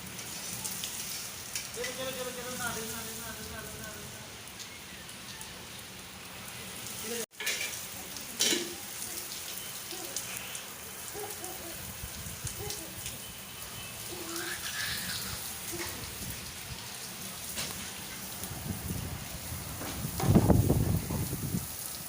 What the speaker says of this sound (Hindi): बारिश बहावलपुर में बहुत ज़्यादा तेज़ हो रही है